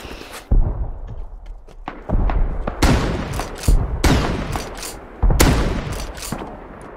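Gunfire in the survival video game Rust, a rapid run of loud, sharp shots in uneven bursts with heavy thumps, close and clear with no talking over it.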